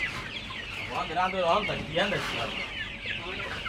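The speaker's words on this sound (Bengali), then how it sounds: "ঘেরার মুরগি নিয়ে চলে আসলাম" Several chickens, about forty days old, cluck and murmur close by in a busy, overlapping chorus, with a few sharper calls rising above the steady barnyard background.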